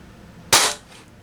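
A single sharp shot from a PCP air gun fitted with an SSD direct ASA power plug and a 900 output tank, a crisp, close crack with a short fading tail.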